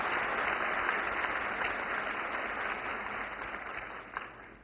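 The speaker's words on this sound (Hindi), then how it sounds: "तालियों की गड़गड़ाहट से हम माननीय प्रधानमंत्री का स्वागत करेंगे" Audience applause welcoming the Prime Minister at a women's empowerment event, a dense, steady wash of many hands clapping that holds at full strength for several seconds before easing slightly at the end.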